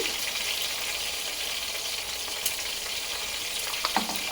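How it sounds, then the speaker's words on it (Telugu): Masala paste for a Bhimavaram-style fish pulusu fries in a pan with a soft, steady sizzle and bubbling, broken by a few small clicks of stirring near the end. "ఈ మసాలా పేస్ట్ అయితే వేగుతూ ఉన్నప్పుడు"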